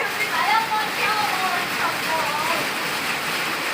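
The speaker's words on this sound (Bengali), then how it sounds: "আর দেখো বাইরে কি রকম বৃষ্টি পড়ছে।" Steady rain pours outside, a constant hissing wash with dripping, some indistinct talk faintly mixed in.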